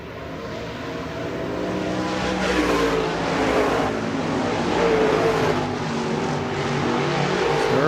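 Stock cars racing at Shelby County Speedway, engines roaring and rising in pitch as the pack sweeps past, the sound swelling from moderate to loud and holding as several cars pass one after another.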